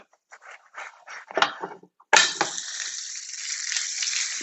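A sourdough pancake lands in a hot pan after clattering handling noises, then sizzles steadily and loudly for a couple of seconds, alone without speech.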